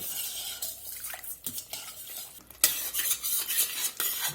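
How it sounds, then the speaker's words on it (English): A spoon scraping and stirring in a pot while chili sauce sizzles softly in olive oil, with bursts of clinking utensil sounds and frying. "chili sauce has been frying up in the olive oil there just a minute"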